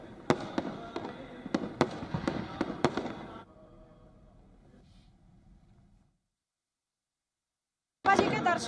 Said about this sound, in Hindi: आतिशबाजी हुई धूमधाम से, बड़ी रौनक देखने को मिली।